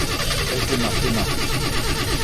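A video-game car engine cranks and churns steadily as it tries to start, a dense mechanical drone lasting throughout with no clear catch.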